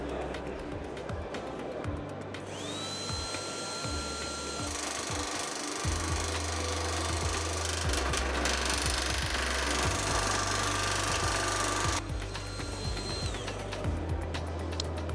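A FEIN ABLK 18 cordless battery nibbler chews through thin sheet metal at a trade show, a loud, continuous buzzing rasp with shifting whines that holds steady for most of the stretch.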